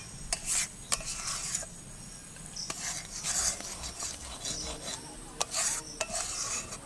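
Milk cream slowly cooking down into homemade ghee in a village kitchen, stirred with a utensil that scrapes the pot in repeated bursts over a soft, steady simmer and crackle.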